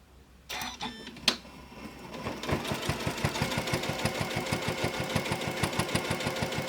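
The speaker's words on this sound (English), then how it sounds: "I'm just going to start sewing" A sewing machine stitching through the thick seam of a three-layer flannel rag quilt: a click and a short whir at the start, then a steady, close, rapid mechanical chatter that runs evenly to the end with no talking.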